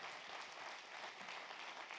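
An audience at a political pension-reform rally in Saint-Nazaire applauds in a steady, dense wash of clapping that holds at an even, fairly distant level throughout.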